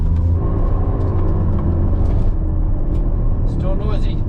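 A Suzuki Cappuccino with a noisy rear end from worn CVs or drive shafts drives along with a constant loud road rumble and engine drone, and voices talk over it.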